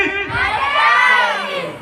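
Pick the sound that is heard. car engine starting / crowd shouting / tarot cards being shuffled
crowd shouting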